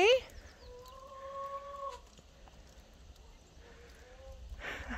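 Chickens cluck near their coop in the morning, a few short calls and drawn-out tonal notes coming close and clear over quiet farmyard background.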